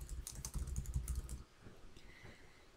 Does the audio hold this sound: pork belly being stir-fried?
no